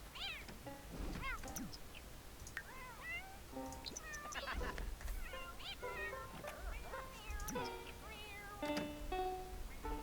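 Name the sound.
cat crying in the video game The Sims 4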